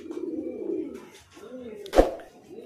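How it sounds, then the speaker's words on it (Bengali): Fancy pigeons in an indoor loft give soft, low cooing calls in two close bursts, followed by a sharp brief knock or flutter. The sounds are near and fairly quiet. "টোটাল ঘরে যতটা জায়গা আছে জায়গা জুড়েই শুধু ফেন্সি পায়রার লফট"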